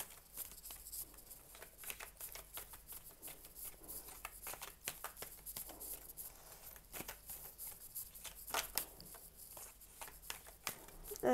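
A deck of tarot cards is shuffled continuously, a dense rapid patter of riffling and flicking close by and fairly soft, with no talking over it.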